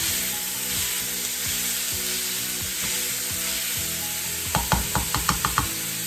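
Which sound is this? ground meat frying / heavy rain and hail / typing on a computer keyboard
ground meat frying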